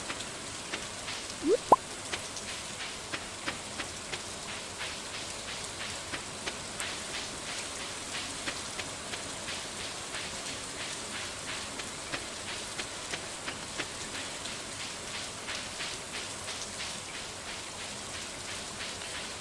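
Steady rainfall in the Stardew Valley video game, a continuous soft patter with scattered sharper drip-like ticks throughout, heard alone at a moderate, even level.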